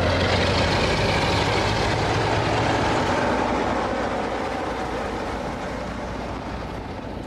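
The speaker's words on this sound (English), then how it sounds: "before the train leaves." A train carrying a travelling postal sorting office rumbles and idles nearby, with a steady, heavy mechanical drone and engine hum that eases slightly toward the end.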